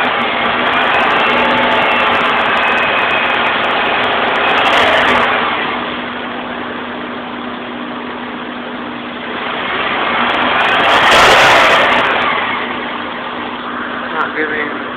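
A faulty 2000 Toyota Corolla engine runs close by and revs twice, the steady drone swelling and falling back to idle each time.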